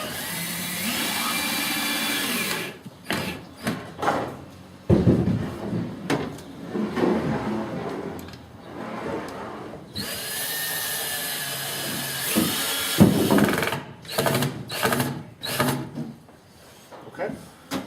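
A craftsman sets the last wooden structural beam with power tools: short whirring bursts, knocks and clatter come in uneven spurts with pauses, mixed with people talking nearby.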